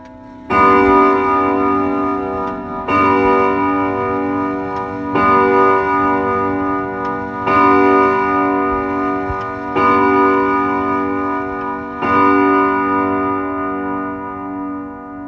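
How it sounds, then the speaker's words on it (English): A grandfather clock in a house rings out six resonant chimes, each struck at an even interval and left to ring and fade before the next, loud and close with no voices. "Suddenly, I heard the grandfather clock playing again."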